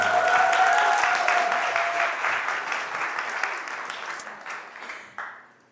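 Audience applause at a parenting talk concert in Daegu, loud at first under a fading sung note, then thinning out and tapering off to a few scattered claps.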